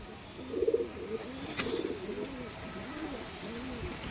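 Andhra pigeons, a young pair, coo in repeated soft rolling phrases close by, with a brief sharp rustle or flutter in the middle; the coos come in a loose rhythm over quiet background.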